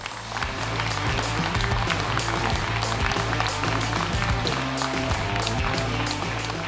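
Audience applause at a university women's electronic textile and smart clothing project event: steady, dense clapping from a crowd that holds at even loudness throughout.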